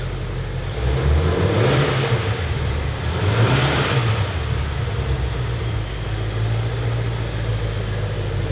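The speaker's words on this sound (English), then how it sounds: "Let's hear some revs." A 2018 Ford Mustang Shelby GT350 engine, warm and being rebuilt after a wreck, blips its throttle through a couple of moderate revs that rise and fall over a steady idle, close and fairly loud.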